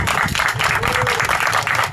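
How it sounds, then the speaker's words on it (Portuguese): A church congregation breaks into applause honouring the elderly, steady close clapping from many people at a lively rhythm, with faint voices mixed underneath. "quero pedir a vocês uma salva de palmas para os nossos idosos"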